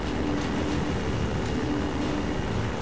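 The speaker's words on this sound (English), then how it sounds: "Of course, there's a dropship." Combine dropship from Half-Life 2 flying overhead, a steady loud droning engine roar with low rumbling hum, continuous throughout without talk.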